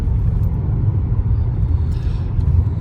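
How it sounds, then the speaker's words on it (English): A Mercedes E250 coupe is driving on a road, giving off a steady low cabin rumble of engine and road noise throughout, with no talking. "I'm driving this E250, a coupe."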